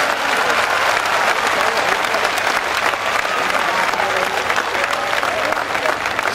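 A large crowd at a school world-record event claps vigorously for the children in an open ground. The applause is dense and loud and holds steady throughout.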